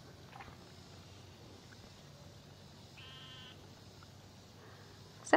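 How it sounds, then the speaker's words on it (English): A goat bleats once, faint and distant, outdoors near a pond against a quiet background hiss. "Sound like a goat."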